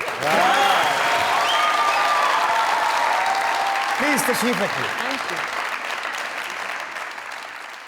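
Studio audience applause at a Pakistani comedy talk show, loud from the start and steadily fading over several seconds while a host's voice speaks over it.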